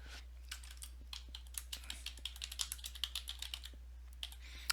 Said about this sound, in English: if I just type in middle school science, and if I hit the enter key